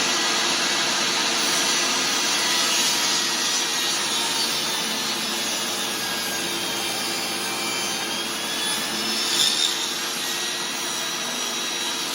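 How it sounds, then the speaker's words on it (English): A table saw trims a damaged wooden shelf while a shop vacuum collects dust, a loud continuous close whirring roar with slight rises as the blade cuts through the wood. "we're going to go ahead and turn on our table saw"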